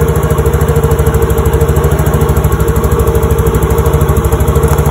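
A Yamaha Mio J scooter engine idles fast at around 1500 rpm, a loud, close, rapid even putter with steady pulsing and no pauses.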